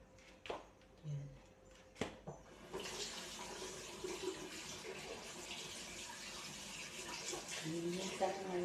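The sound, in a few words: water running from tap while washing dishes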